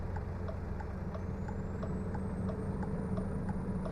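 A Volvo truck driving in American Truck Simulator, a steady low engine drone with a smooth, even rumble throughout and a faint rising whine above it, no talking.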